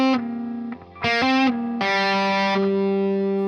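Distorted electric guitar plays a short lick using hammer-ons and pull-offs, with sustained notes and brief picked bursts, loud and close with effects, no talking.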